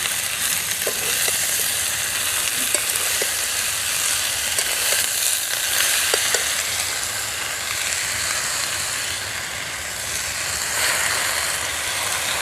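Spinach tossed into a pan of well-fried potatoes sizzles steadily and continuously, a close, dense hiss with faint stirring clicks scattered through it and no voices.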